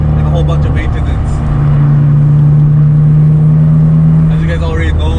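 BMW Z3 3.0 with a manual ZF gearbox and an E46 330i naturally aspirated engine, muffler deleted, accelerating hard on a canyon road; a loud, steady drone rises in pitch through the middle, with a faint voice underneath.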